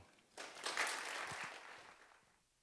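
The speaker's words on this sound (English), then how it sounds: "thank all of you for that warm applause" An audience in a lecture hall applauds to welcome a speaker: a burst of clapping begins suddenly, holds briefly, then thins and fades, soft and somewhat distant.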